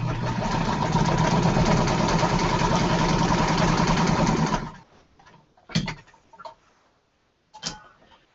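A sewing machine stitches the final seams of a quilt in a steady, loud run for about four and a half seconds, then stops, leaving only a few faint knocks and clicks.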